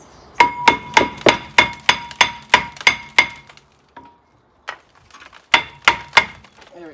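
A hammer strikes a Volvo V70 front brake disc in a quick run of about ten sharp metallic clinks, then a pause, then two more ringing taps, close and loud.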